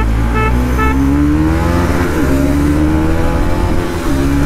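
A modified Bajaj NS 200 motorcycle engine accelerates hard while being ridden, its loud, steady drone rising in pitch through the gears, close and continuous with no talking.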